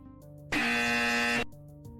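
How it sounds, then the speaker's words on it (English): A harsh, loud incorrect-answer buzzer sounds once, a flat droning blast of about one second that cuts off abruptly, with quieter background sounds before and after. "Forgot to press my incorrect buzzer button."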